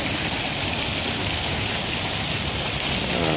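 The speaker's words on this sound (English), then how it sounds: "There's a water fountain here." Water from a fountain splashes steadily into a pond in a small public garden, giving a continuous, dense, close rushing hiss with no pauses.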